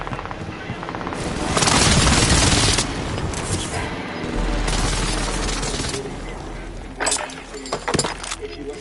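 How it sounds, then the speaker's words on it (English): Precision airstrike explosions in Call of Duty Warzone roll in as two broad heavy blasts, each lasting about a second and a half, followed by scattered sharp gunfire cracks, all fairly loud in a crowded battlefield mix. "Enemy precision airstrike"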